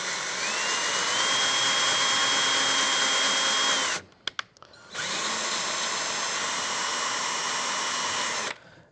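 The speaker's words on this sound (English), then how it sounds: "you want to put your drill on the lowest setting just so you don't grind up the threads" A power drill on its lowest setting threading a hole whines steadily at close range for several seconds, cuts out briefly with a few clicks, then runs again at a steady pitch.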